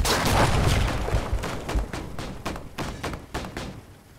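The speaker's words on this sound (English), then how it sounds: "Is that the auto cannon?" Rapid bursts of heavy autocannon fire in the video game Gates of Hell, thudding booms, loud at first and then repeating in a steady, slightly fading rhythm, no talking.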